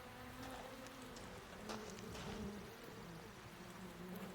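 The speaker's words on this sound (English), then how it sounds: "the cucumber trellis is loaded with bees and cucumbers" Bees buzz softly around a garden cucumber trellis loaded with fruit, a faint continuous hum with occasional louder passes as individual insects fly close.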